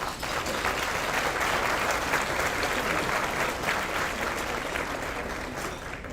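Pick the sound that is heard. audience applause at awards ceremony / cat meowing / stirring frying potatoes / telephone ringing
audience applause at awards ceremony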